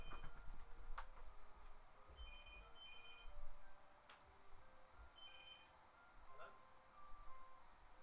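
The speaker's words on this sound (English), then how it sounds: "Phone's ringing." A telephone rings in a room, repeated short ringtone bursts in a quiet space, fairly faint and distant.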